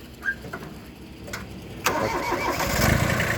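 A Kubota XB tractor's diesel engine turns over with a few cranking bursts and then catches, settling into a louder, continuous close idle.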